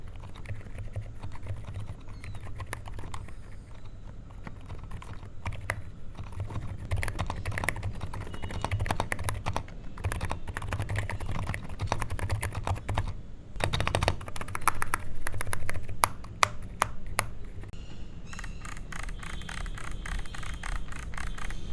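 Continuous clicky typing on an Epomaker RT100 mechanical keyboard, rapid uneven keystrokes close up, with a low hum underneath.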